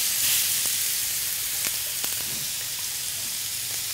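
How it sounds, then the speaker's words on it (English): Meat sears in a smoking-hot oiled non-stick frying pan, a steady loud sizzle and hiss close by, with a few faint ticks and spatters throughout and no talking. "I'm then going to place the meat into the pan"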